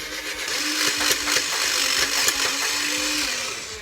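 A Nerf Matrix Fire flywheel blaster revs with a continuous high motor whine while firing full auto, with rapid soft thumps of darts launching throughout.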